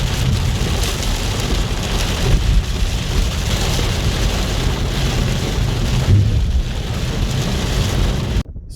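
Heavy rain pours down steadily in the Utah and Arizona canyon country, a dense, continuous hiss of drops drumming on surfaces, loud and close throughout before cutting off abruptly near the end.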